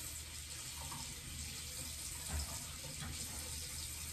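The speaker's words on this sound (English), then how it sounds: "I'm going to put it under some really, really cold water and flush it around my face" Very cold tap water runs steadily from a faucet over a face scrubber at a bathroom sink, a continuous close hiss and splash with slight changes in the flow, with no talking.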